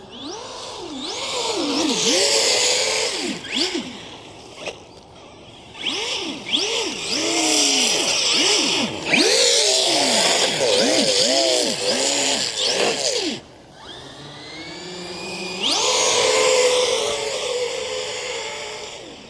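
A Redcat Valkyrie MT 4S electric RC monster truck drifts on snow. Its motor whines loudly, rising and falling in repeated revving sweeps, with brief pauses between bursts of throttle.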